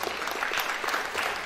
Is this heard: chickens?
no